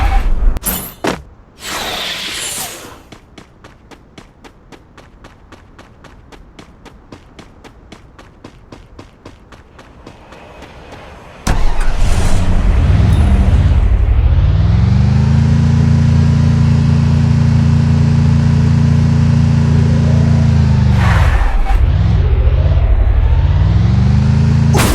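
A video game car races at high speed, starting with bursts of crashing and clattering effects and a rapid ticking, then a loud sustained engine drone holds steady for the rest of the clip with a brief dip near the end.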